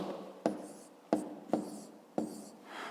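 Pen or pencil writing numbers by hand on paper for a fifth-grade math exercise, four distinct scratchy strokes at regular intervals, close and clear with no talking.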